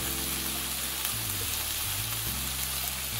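A lamb smashburger patty sizzles steadily on a hot surface just after flipping, a close, dense frying hiss with faint scraping and no speech.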